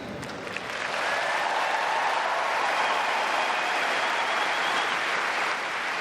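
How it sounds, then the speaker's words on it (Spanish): A Wimbledon crowd gives Sarah Gilbert a sustained ovation, with broad, dense clapping that swells in after a second and holds steady at a distance. "una de las asistentes recibió esta emocionante ovación"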